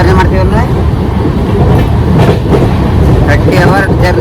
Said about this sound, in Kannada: ಪಂಜಾಬ್ ಈ ಟ್ರೈನ್ ಈಗ ಡೆಲ್ಲಿ ಹೊಂಟದ